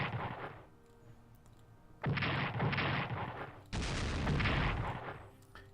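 The Pearl Harbor strike plays out in the WWII strategy game Strategic Command WWII: World at War. Three heavy bursts of rumbling gunfire and artillery booms sound loudly, with quieter stretches between them.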